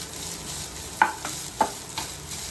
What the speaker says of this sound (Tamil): தேங்காய் துருவிட்டு தேங்காய் வந்து நல்லா ஃப்ரை ஆகணும்